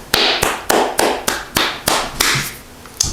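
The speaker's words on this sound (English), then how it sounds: "Clap it up." A series of about ten sharp, loud hand claps close by, spaced in a slightly uneven rhythm, each one ringing out briefly before the next.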